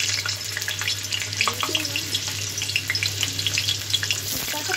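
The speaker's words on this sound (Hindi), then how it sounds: "अब ये तेल गर्म हो गया है तो मैं डालूँगी आलू" Potato pieces frying in hot oil, a dense continuous crackling sizzle close by with a few soft stirring knocks, no talking.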